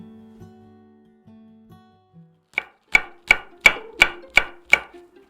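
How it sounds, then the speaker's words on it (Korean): A knife chops Cheongyang chili peppers on a cutting board, about seven sharp, evenly spaced thuds in quick succession, close and loud after a short stretch of quiet. "청양고추를 쫑쫑 썰어줍니다"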